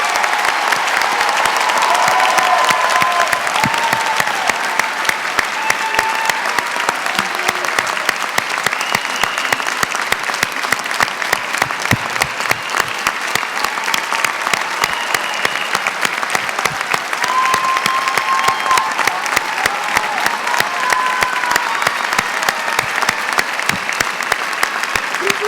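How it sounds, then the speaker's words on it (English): Sustained audience applause at a 2018 law school commencement ceremony, a dense, loud wash of clapping from a large crowd that carries on steadily throughout. "Let's give them one more well-deserved round of applause."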